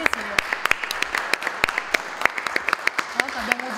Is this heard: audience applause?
yes